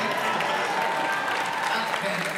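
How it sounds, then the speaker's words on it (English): Audience at a San Diego Comic-Con panel for The Flash applauding a guest called Baby Giraffe, a steady, dense wash of clapping from a large hall, with a voice talking over it. "A round of applause for Baby Giraffe."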